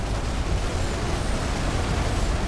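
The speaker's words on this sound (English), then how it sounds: "Explosion." Explosion in Planetside 2 during an outfit wars battle, a dense continuous roar of rumbling blast noise at steady loudness throughout, with no talking.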